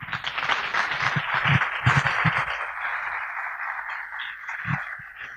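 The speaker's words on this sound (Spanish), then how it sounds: "Vamos a recibirlos con un aplauso." Sustained applause from an audience welcoming speakers, a dense steady wash of clapping with some louder individual claps standing out, fading slightly toward the end.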